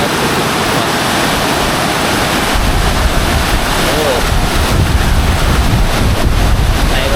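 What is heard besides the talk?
rushing floodwater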